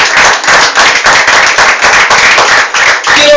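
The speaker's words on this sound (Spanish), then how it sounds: "Den un aplauso por Dios." Congregation in a church claps rhythmically in unison, loud dense rapid hand claps filling the room in a steady beat.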